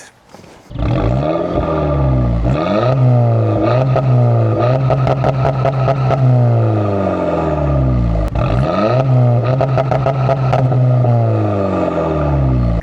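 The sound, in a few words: Audi car engine started and running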